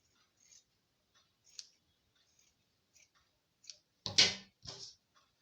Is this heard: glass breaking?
no